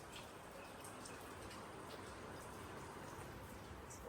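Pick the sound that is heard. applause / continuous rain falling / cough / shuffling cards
continuous rain falling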